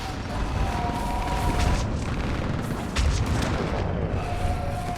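Artillery fire support explodes during a battle in the video game Mass Effect 3, a continuous roar of distant booms and rumbling blasts with louder thuds around the middle and near the end, dense and sustained.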